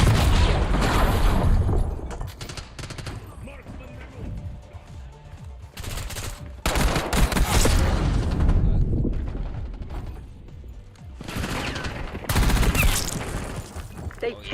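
Rapid bursts of automatic gunfire from the video game Black Ops 7 keep firing for long stretches with short pauses between them, loud and continuous, with a voice talking over it at times.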